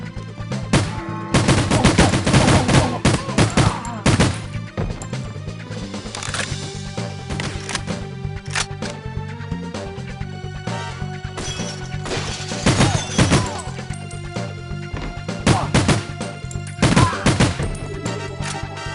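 Gunfire in the 007: The World Is Not Enough video game, with dense bursts of loud shots and crashing impacts rattling throughout, heaviest at the start and near the end, with no talking.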